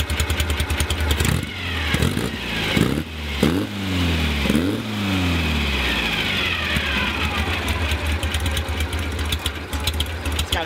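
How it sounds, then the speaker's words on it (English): Volkswagen flat-four engine with an A1 aftermarket exhaust and straight-cut crankshaft idles close by, a loud steady rattling burble with a faint whine, briefly revved in rising and falling sweeps near the start. "It's got a straight cut crankshaft, so you kind of hear that whine a little bit. Yeah, it's basically the motor."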